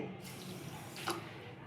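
A short, quiet stream of water pours steadily onto sugar for under two seconds.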